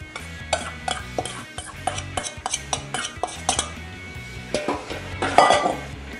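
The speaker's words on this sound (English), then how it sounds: "We'll mix this up well." Meatball mixture of soaked bread and grated Parmesan being mixed in a bowl, with repeated clinks and scrapes of utensils against the dish in an irregular rhythm, close and fairly loud, no talking.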